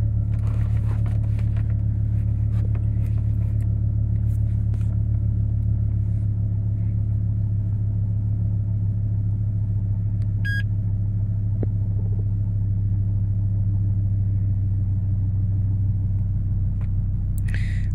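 A 2005 GMC Canyon light duty truck engine idles with a steady, low rumbling drone that holds constant throughout, close and fairly loud, with no talking.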